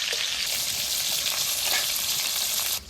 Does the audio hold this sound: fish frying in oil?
yes